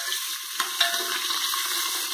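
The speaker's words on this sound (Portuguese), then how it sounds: "a gente vai refogar primeiro o bacon, porque o bacon vai soltar uma gordurinha" Bacon sautés in a pan for Minas-style feijoada, a close, even hiss of sizzling fat with a couple of brief stirring knocks.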